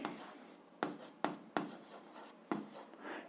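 A pen or pencil writes by hand while working an algebra exercise, with soft scratchy strokes and a few sharper taps as it is set down, close and quiet, with no talk.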